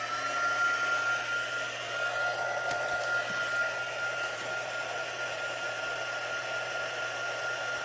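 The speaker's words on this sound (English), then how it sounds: "First, I'm going to warm this up, the heat tool," A heat embossing tool warming up for a card-making embossing project, giving a steady, close, continuous blowing whoosh with a constant hum that holds without pause for the whole stretch.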